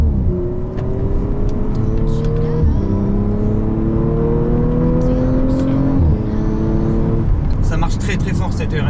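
An Audi RS4 accelerates hard on the Dijon-Prenois circuit, its engine note climbing through gears with brief dips at each shift, loud and close, with excited talk over it.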